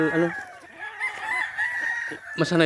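Roosters crow at a chicken farm, several overlapping cock-a-doodle-doo calls rising and falling close by, with clucking fowl in the background and no talk.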